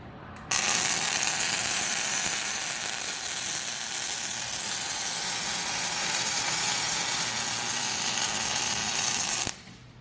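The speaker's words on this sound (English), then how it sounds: "Welder's turned on, and I'm going to go to auto, and I'm going to hit the start button." Welda-round 300 port welder with rise and fall running its automatic weld cycle, a steady broadband hiss and buzz that starts abruptly, holds loud and even for about nine seconds, then cuts off.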